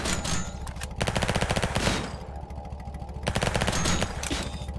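Rapid SMG gunfire in a video game, two long sustained bursts of fast rhythmic shots, loud and close, with a short lull between them and no talk.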